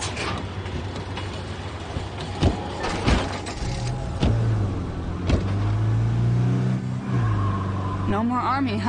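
A car driven in the zombie survival video game State of Decay 2, its engine droning and shifting pitch as it accelerates, with bumps and thuds along the way and voices talking over it.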